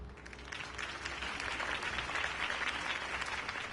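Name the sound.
crowd applause for Harvey Dent's speech, from Batman: The Telltale Series video game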